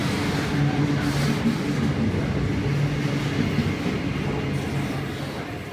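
A train rolls past at Cheltenham, a loud sustained rumble of carriages with a steady low hum that holds throughout and eases slightly at the end, with no voices.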